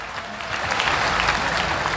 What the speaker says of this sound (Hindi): जोरदार तालियां बजाओ हमारे प्रदेश अध्यक्ष जी के लिए।